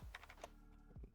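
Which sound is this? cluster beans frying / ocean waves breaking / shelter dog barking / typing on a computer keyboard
typing on a computer keyboard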